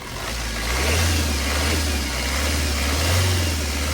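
A 2017 diesel Maruti S-Cross with push-button start revs under the accelerator, a steady deep engine drone that swells and holds at close range, loud and without talk.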